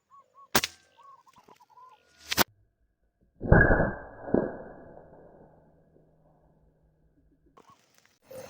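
A single loud, sharp hunting gunshot cracks out after a couple of faint clicks, its echo trailing off into a quiet outdoor setting.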